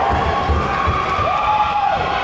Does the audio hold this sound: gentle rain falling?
no